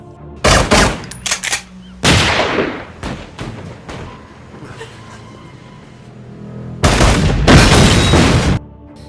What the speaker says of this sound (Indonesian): Dia kemudian menembaki tangki bensin, menyebabkan ledakan besar.